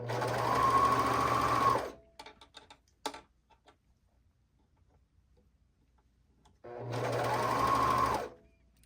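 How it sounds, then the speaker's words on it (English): A serger runs in two steady bursts of fast, even stitching, stretched fabric being fed through during wrap dress sewing, with a quiet pause of small clicks and handling noises between the runs. "So I'm gonna serge."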